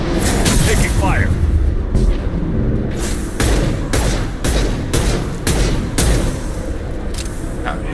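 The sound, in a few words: shotgun gunfire in the video game Mass Effect 2 Legendary Edition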